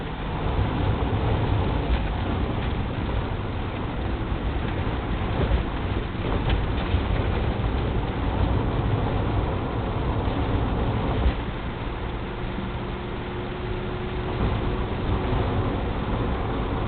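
A Triumph TR7/8 sports car drives over a rough, broken California road, giving a continuous rumbling mix of road noise, engine and wind that stays steady throughout with no talking.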